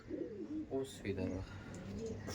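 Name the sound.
Panjabi Malbayi pigeon held in hand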